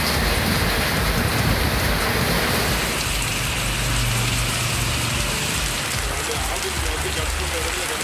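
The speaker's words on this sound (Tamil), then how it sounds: "மாலை நேரத்தில் கருமேகங்கள் சூழ்ந்து கனமழை கொட்டி தீர்த்தது" Heavy evening rain pours down in a strong wind, a loud dense roar of rainfall with a low rumble around the middle, steady throughout.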